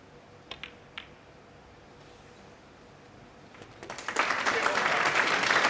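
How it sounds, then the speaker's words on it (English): Audience applause breaks out at a snooker match between O'Sullivan and Higgins, starting quietly after a few isolated clicks and swelling into sustained clapping over the last two seconds, with a commentator's voice earlier. "Applause"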